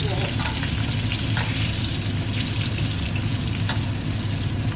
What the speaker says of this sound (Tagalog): Niluto nyo lang sa sa mantika yung dilis, tapos yung bawang.